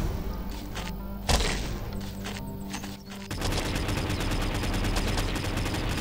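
Shooting in the video game Triton Survival, a dense, continuous barrage of rapid gunfire and thumping impacts that runs the whole time, loud and close with no speech.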